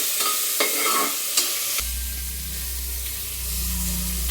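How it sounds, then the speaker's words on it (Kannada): Ginger, garlic and onion paste dropped into hot tempering oil for a sambar, starting with a few clinks and scrapes, then a sudden loud, steady sizzle that keeps going, close up, with no talking. "ಈಗ ಶುಂಠಿ ಬೆಳ್ಳುಳ್ಳಿ ಮತ್ತು ಈರುಳ್ಳಿ ಪೇಸ್ಟ್ ಮಾಡ್ಕೊಂಡಿದ್ದೀನಲ್ಲ, ಇದನ್ನು ಒಗ್ಗರಣೆಗೆ ಹಾಕ್ತಾಯಿದ್ದೀನಿ"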